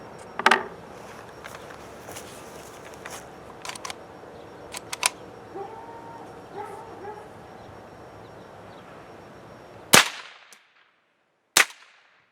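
Two sharp, loud rifle shots ring out near the end, fired through an NcStar tactical scope at a range, after a stretch of quieter clicks and faint handling noise.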